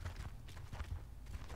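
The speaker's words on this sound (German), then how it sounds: "Man hört hier echt Schritte" Muffled, rhythmic footsteps thud along in Gears of War, a fast run of heavy steps that is low and fairly quiet.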